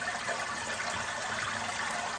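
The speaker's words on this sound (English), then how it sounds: "now I'm just gonna pour the rest through a piece of cheesecloth into a strainer, into my pot" Broth pours steadily through cheesecloth into a strainer and down into a pot, a continuous close liquid gush without pauses or talk.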